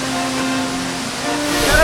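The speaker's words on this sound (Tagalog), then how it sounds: "ito nga ang Tinago Waterfalls" Broad, steady rush of falling water at Tinago Waterfalls in Iligan, a dense roar that swells slightly toward the end.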